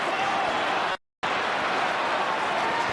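A large Australian football crowd at a Hawthorn versus Port Adelaide match, heard as a dense, continuous roar of applause and cheering that briefly cuts out to silence before resuming.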